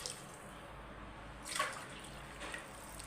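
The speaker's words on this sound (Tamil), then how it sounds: "ஒரு 1/2 டம்ளர், மொத்தம் 3 டம்ளர் தண்ணி சேர்த்துக்கலாம்." Water pours into a pressure cooker of mutton biryani in a short splashing burst after a quiet moment, then settles into faint trickles.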